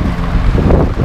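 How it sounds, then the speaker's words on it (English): Strong wind buffeting an outdoor microphone on a visa run to Mexico, a loud, continuous low rumble with gusty fluctuations throughout. "I'm really sorry if it's really windy. If it's really, really windy today."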